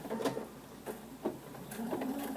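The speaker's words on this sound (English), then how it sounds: "Stitch that opening closed." A sewing machine stitches the opening of a zippered fabric bag closed, with faint, quiet short bursts of mechanical whirring separated by pauses, heard close but at low volume.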